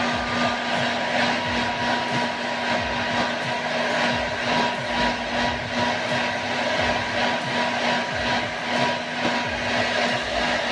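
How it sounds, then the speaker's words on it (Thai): Hair dryer blowing on toothpaste spread over eyeglass lenses, a loud, continuous close-up whoosh with a steady motor hum and no pauses. "เป่าจนยาสีฟันเราละลายนะครับ ทั้งด้านหน้า ด้านนอกแล้วก็ด้านในนะครับ"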